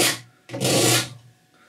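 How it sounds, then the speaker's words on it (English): A palette knife scrapes excess oil paint off a canvas in two broad rasping strokes, the second longer and louder, heard up close and alone. "Scrape away some of that excess."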